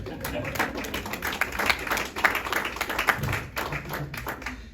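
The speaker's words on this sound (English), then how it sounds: "You go ahead and clap." Audience clapping at a live event, a dense spread of hand claps running steadily throughout, mixed with crowd murmur and some talking underneath.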